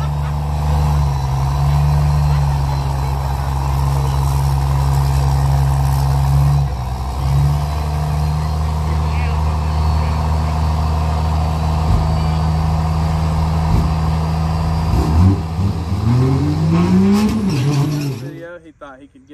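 Common-rail swapped second-gen truck idling with a steady deep drone, voices talking over it, then a launch near the end as the engine climbs quickly in pitch before cutting off.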